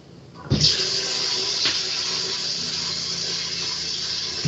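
Tap water gushing into a cooking pot, starting abruptly with a splash and then running as a steady, close, bright rushing stream.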